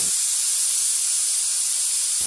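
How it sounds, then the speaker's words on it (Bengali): A pressure cooker cooking mutton curry with potatoes vents a loud, continuous hiss of steam that holds steady for about two seconds before cutting off abruptly. "এখানে আমি প্রেসার কুকার বসিয়ে দিলাম, 5টা সিটি পড়া পর্যন্ত ওয়েট করব"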